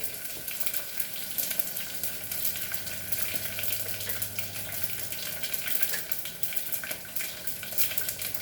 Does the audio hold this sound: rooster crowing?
no